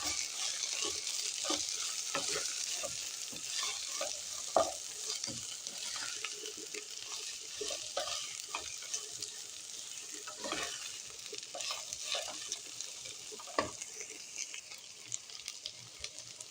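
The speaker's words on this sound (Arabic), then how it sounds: "هلا بنقليهم هيك شوي" Spices fry in a pan with a soft, steady sizzle, broken by light scrapes and taps of stirring throughout; fairly quiet and close, with no talking.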